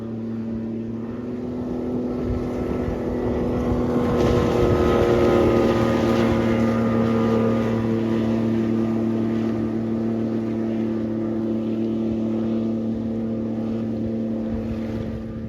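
A Yamaha 85HP outboard fitted with Chris Carson Sport Reeds drives a RayCraft bass boat at speed, a loud continuous engine drone over rushing water and wind that swells and holds steady.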